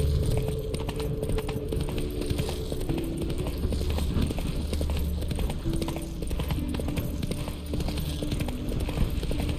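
A horse's hooves trot steadily in The Witcher 3, a rhythmic clip-clop close by under ambient game sound and music throughout.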